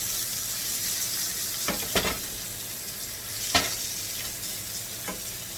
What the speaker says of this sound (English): Let that fry.